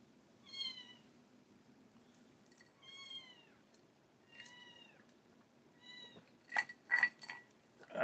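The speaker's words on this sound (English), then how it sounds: "Skittles, why are you not taking care of your kitten?" A cat meows repeatedly at a kitten, several soft, drawn-out calls spaced a second or two apart, followed by a few sharper, higher cries near the end in a quiet room.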